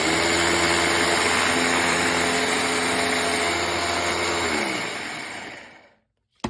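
Blender whizzing wet ingredients for no-added-sugar snack bars, a loud close high-pitched motor whine held steadily, then spinning down and cutting off near the end, followed by a brief clunk.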